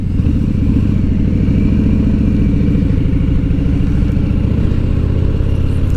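A Harley-Davidson touring motorcycle engine rumbles loudly and steadily as it accelerates, its deep throbbing note rising in pitch close up.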